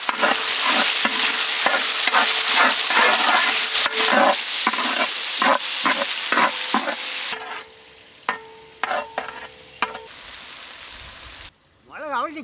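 Chicken feet pepper fry with tomato is stir-fried in a pan, loud hissing sizzle broken by rhythmic scraping stirs, dropping to a quieter simmer with occasional clinks and a brief voice at the end.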